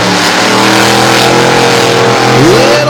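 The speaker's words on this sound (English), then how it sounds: "Tremendous start for both trucks." Pair of racing trucks roaring off the start line at an All Star Championship event, loud engines climbing in pitch together with one note rising sharply near the end, close and dominant.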